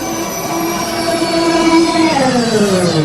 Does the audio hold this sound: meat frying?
no